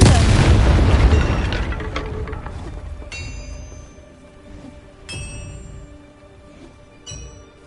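A loud magical Confringo fire-spell blast in Hogwarts Legacy, a heavy boom at the start that rolls off into a long decaying rumble, followed by a few sharp lighter pops and chimes.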